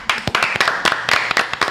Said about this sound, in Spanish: Yo tengo que iniciar con un aplauso.